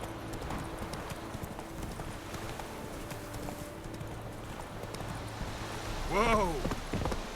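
Roach the horse galloping in The Witcher 3, a steady rhythmic clip-clop of hooves with a brief whinny near the end, and a voice speaking over it.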